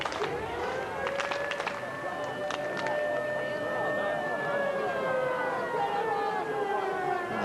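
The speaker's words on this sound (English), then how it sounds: "Siren's still going." A wailing siren sounds during a Bradford versus Warrington rugby league match, a steady rising-and-falling tone over crowd noise and commentary.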